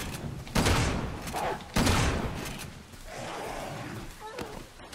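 Gunfire at enemies in the Resident Evil 6 video game, with two heavy, close blasts followed by a rumbling mid-level din, all loud under game ambience.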